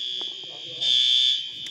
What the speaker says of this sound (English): But a fire alarm has been activated.